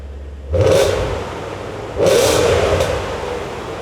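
A BMW M5 engine revs twice in its quieter go-home exhaust mode, each rev rising into a steady, loud drone that holds before easing off, with no talking.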